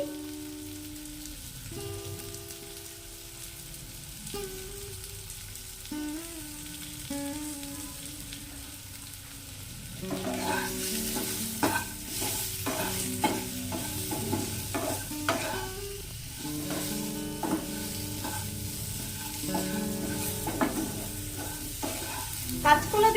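Ground turmeric and salt fry in a pan for a singi fish and green banana curry, with a steady sizzle and scraping stirs that grow louder and busier from about halfway through, over a faint tonal backdrop.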